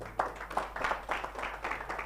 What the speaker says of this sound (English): Could we clap for her, please?